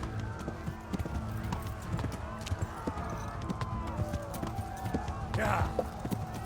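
Hooves clip-clop in a quick galloping rhythm from a horse in the medieval game Kingdom Come: Deliverance, running steadily at moderate volume while someone talks over it.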